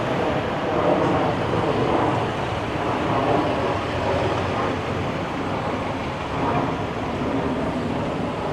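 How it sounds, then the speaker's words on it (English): A GO commuter train passes near Bloor Street and Sterling Road in Toronto, producing a steady, loud broadband rumble and rush that holds at an even level throughout, with no distinct voices. "the GO train."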